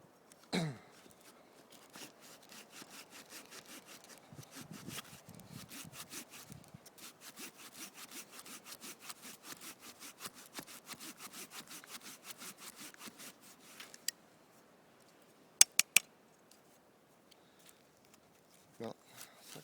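A saw rasps steadily back and forth through resinous fatwood in quick, even strokes, then stops; a few sharp knocks and taps follow in the quieter stretch.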